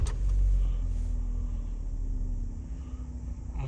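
A 2009 Opel Zafira B minivan engine idles with a steady, low rumbling hum that stays even and fairly quiet throughout, with no revving.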